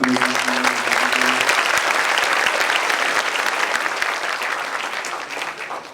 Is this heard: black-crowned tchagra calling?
no